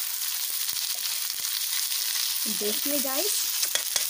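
Ginger and bori frying in hot oil, a steady bright sizzle with stirring scrapes, and a voice speaks briefly over it.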